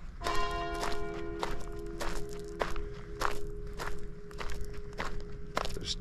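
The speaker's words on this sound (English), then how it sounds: "There's church bells going off." Church bells ring at night at a castle in Italy, a steady sustained bell tone with a ringing hum beneath, overlaid by regular crunching footsteps up close.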